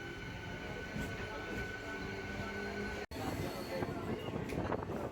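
A MEMU passenger train runs between Secunderabad and Warangal past Ghanpur station, a steady, moderate rumble of wheels and carriage noise with faint rattles and a brief dropout midway.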